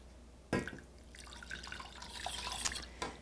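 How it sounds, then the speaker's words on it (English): Water poured from a container into a bowl of peanut noodle sauce during home cooking, heard as a near splash, then a few seconds of light trickling and dripping with no talk. "And we're also going to add some water."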